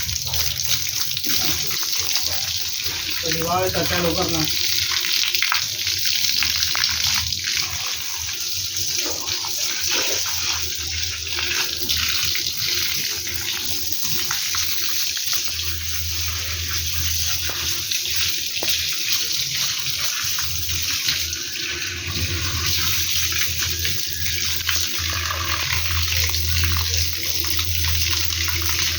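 Water sprayed over garden soil before sowing coriander, a continuous hiss of spraying water running steadily throughout, with a brief voice speaking over it.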